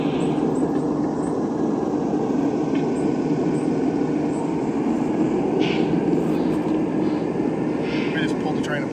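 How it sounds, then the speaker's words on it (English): A very heavy freight train on a downgrade, loud continuous rumble and grinding of rolling cars close by, steady throughout with faint metallic squeals; no distinct coupler break stands out. "We just pulled the train apart."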